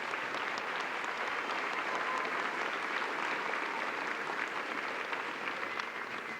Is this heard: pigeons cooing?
no